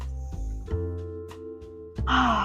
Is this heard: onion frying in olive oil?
no